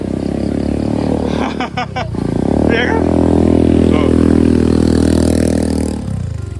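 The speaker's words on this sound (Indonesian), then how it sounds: "Kebayang nggak suara motornya ngeden?" An engine with a Hijet motor strains loudly in low gear while climbing a hill in the rain, droning and rising in a sustained labored rev, with brief clatter and a short spoken exchange over it.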